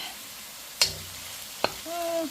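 Onions fry in a pan with a steady soft sizzle, broken by two sharp utensil clicks against the pan. A brief whining tone rises near the end.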